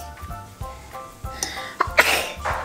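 One sharp sneeze close by near the end, preceded by soft clicks and small handling noises indoors while painting at a table.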